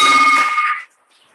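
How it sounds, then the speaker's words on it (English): A bell at a Rotary club meeting is struck once, giving a bright, loud clang that rings for under a second and then cuts off into silence. "Want to ring the bell?"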